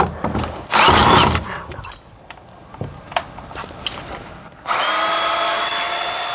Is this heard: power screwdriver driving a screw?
yes